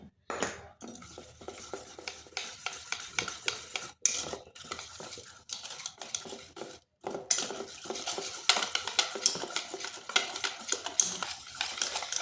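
Eggless sponge cake batter of milk and flour being beaten in a steel bowl, a steady run of rapid clinking, scraping whisk strokes with brief pauses, close and fairly loud, no voices.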